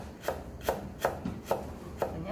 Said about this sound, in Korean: 자, 우리 생강을 편 썰어 놓을게요.